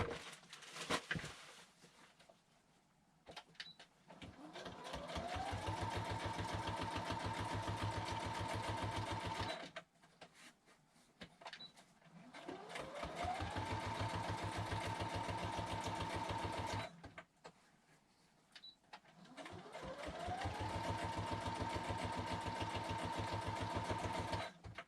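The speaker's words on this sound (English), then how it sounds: "I'm just going to throw some stitches in this real quick" A sewing machine stitches through a fabric leaf in three long steady runs, each starting with a rising whir and settling into a fast even motor buzz, separated by short pauses with small clicks and handling noises.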